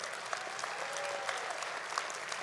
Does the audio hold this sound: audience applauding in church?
yes